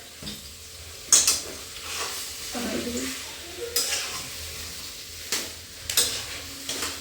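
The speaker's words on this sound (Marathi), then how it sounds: "आता मस्त बटाट्याची भाजी परतून घेते" Potato bhaji is sautéed in a pan, with soft sizzling under repeated clinks and scrapes of a spoon stirring against the pan, close and intermittent, with no voices.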